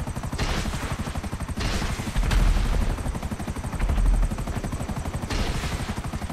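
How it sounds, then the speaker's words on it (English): A Merryweather helicopter in GTA 5 Online firing rockets at the ground, rotor chop pulsing steadily under repeated loud bursts of rocket fire and blasts. "Pelting the ground with rockets that did absolutely nothing good for me."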